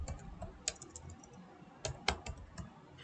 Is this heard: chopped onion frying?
no